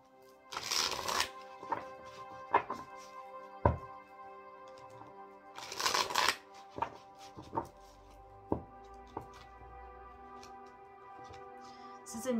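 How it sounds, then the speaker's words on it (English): Two bursts of a deck of cards being riffle-shuffled, each a quick fluttering rush, separated by light taps and card handling noises close by. "This is a new deck, so I just want to give it a good shuffle."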